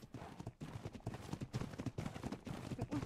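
Horses clip-clop in rapid overlapping beats in the ARK video game, sounding like a group of several horses moving nearby with a busy background wash and no talking.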